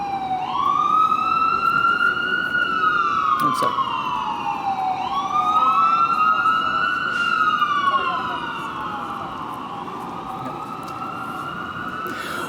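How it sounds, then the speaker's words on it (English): A loud wailing siren sweeps up and down repeatedly as an ambulance passes nearby, with traffic rumble beneath and a brief spoken remark. "Let this ambulance pass or whatever."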